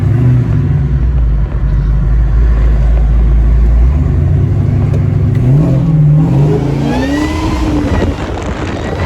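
Supercharged Oldsmobile 442 heard from the cockpit, a loud steady engine rumble that swells and rises in pitch as it revs, then eases off near the end, with no talking.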